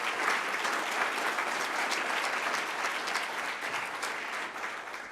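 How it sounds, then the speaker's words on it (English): A crowd applauds steadily at a Madison Fire Department promotional and achievement ceremony, dense even clapping filling the room at a constant level for several seconds before easing slightly at the end. "Please a round of applause for those two gentlemen."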